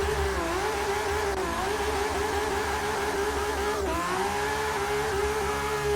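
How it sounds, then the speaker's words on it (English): A Nissan R32 Skyline drift build in Forza 6 holds a loud, steady engine drone near the mic while sliding through a drift, revs wavering slightly with no talk over it. "Let's see if we can drift around here."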